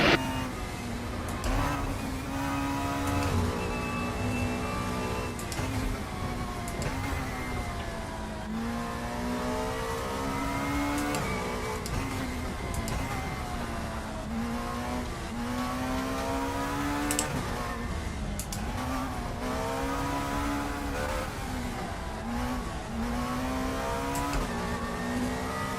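Race car engines roar steadily in a racing video game, with sustained high revving and shifting pitch throughout, loud and continuous, without talk.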